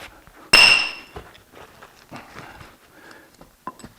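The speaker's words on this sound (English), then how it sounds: "cut and break with a dull chisel" Dull chisel striking and breaking suckers off the base of an olive tree, one sharp ringing metallic hit followed by softer scattered knocks and scraping nearby.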